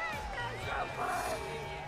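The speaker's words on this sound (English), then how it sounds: "A good cheer from the crowd." Spectators cheer and whoop at the finish of an Olympic women's super-G ski race in PyeongChang, a lively crowd roar with scattered shouts swelling and easing, heard from a distance with babble mixed in.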